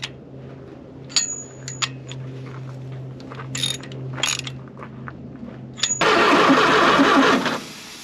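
A sixty-year-old WW2 Ford Jeep engine cranks on the starter with a steady low grinding churn, punctuated by clicks and clanks, then a loud rough burst of cranking noise takes over near the end.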